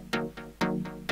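Short synth stabs from an electronic dance track built in FL Studio, four bright chord hits in a steady rhythm, each punchy and quickly decaying, loud and alone.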